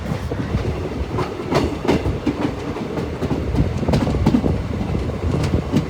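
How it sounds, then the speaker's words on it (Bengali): Heard from on board, the Jaynagar Amritsar Express runs on rails after leaving Madhubani station, a loud, continuous rumble with rhythmic clickety-clack wheel beats close by. "মধুবনী স্টেশন থেকে আমাদের ট্রেন ছেড়ে দিল"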